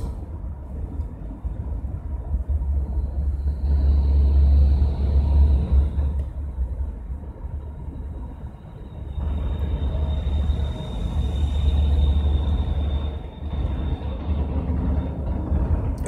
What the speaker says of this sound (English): The spool truck and the car hauler, both cars that I passed, are now passing me.